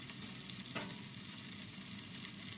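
Coconut cream stir-fried with curry paste in a pan for Thai chu chee sauce, a steady close sizzle with faint scraping of stirring and one brief clatter, no talking.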